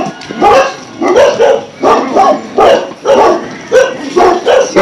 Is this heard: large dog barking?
yes